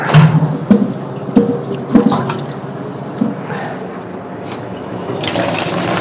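Water pours and splashes into a milking bucket for the final rinse of a daily milking routine, a steady gushing fill with a few louder clanks early on, heard close and alone without talk.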